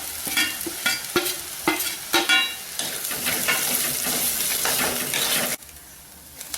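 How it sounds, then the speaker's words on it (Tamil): Onion, garlic, ginger and grated coconut fry in a pan for a Tamil chicken curry, with a steady close sizzle, several sharp clinks and scrapes of stirring near the start, and the sizzle cutting out abruptly near the end. "வெங்காயம், பூண்டு, இஞ்சி இது நல்லா பச்சை வாடை போக நல்லா ப்ரௌன் கலரில் நல்லா வதக்கிக்கணும்."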